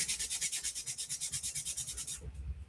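Sanding a 1/72 scale Atreides ornithopter model with a micro sander: quick, even back-and-forth rasping strokes, close and fairly quiet, stopping just before the end with no talk.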